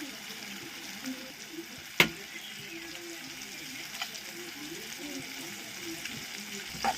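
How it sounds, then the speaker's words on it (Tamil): Egg poured over a frying tomato, onion and green chili mix and lightly stirred, a soft steady sizzle with a sharp utensil clink early on and faint scraping throughout. "முட்டையை ஊற்றி லைட்டாக மிக்ஸ் பண்ணி போகிறோம்."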